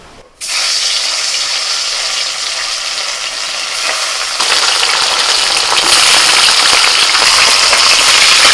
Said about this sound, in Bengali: কড়াইতে তেল দিয়ে দিয়েছি এবার মাছ ভেজে নিচ্ছি